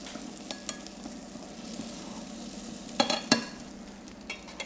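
Mushrooms for risotto sizzling gently in a pan on residual heat after the burner is off, a low steady hiss broken by a few sharp utensil clinks and scrapes near the middle, close and quiet.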